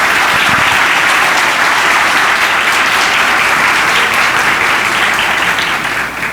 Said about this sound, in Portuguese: Vamos aplaudir o Senhor por este momento